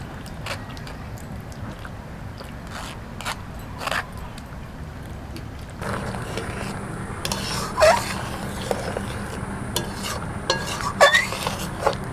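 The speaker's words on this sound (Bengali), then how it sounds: "তরকারিটা ফুটতে শুরু করেছে" Potol sorshe curry, pointed gourd in mustard sauce for hilsa, simmers and bubbles in a pan with a soft steady sizzle, interrupted by nearby clinks and scrapes of a spoon against the cookware.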